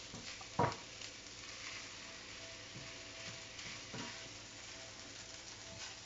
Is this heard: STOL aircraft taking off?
no